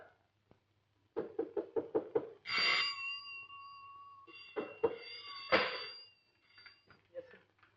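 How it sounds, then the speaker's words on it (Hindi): A run of sharp knocks on a door, about seven quick raps in a row, loud and close, followed by a tonal cry and later more knocks, with voices briefly mixed in. "क्यों दरवाजा खटखटाया जा रहा है?"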